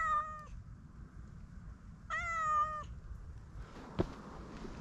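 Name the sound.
wild cat in the forest by a mountain path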